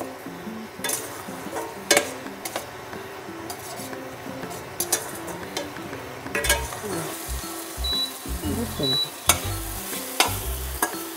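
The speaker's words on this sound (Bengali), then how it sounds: "টমেটোটা দিয়ে আমি কিছুক্ষণ কষিয়ে নেব ভালো করে মশলাটা" Spiced masala with tomato frying in a pan while it is stirred: steady close sizzle under repeated scraping and stirring strokes, with occasional clinks of a utensil against the metal.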